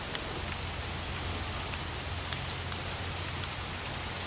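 Steady rain falls around a Jeep being fitted with fender lights, a faint, even hiss of drops on surfaces that carries on without a break and without any voices.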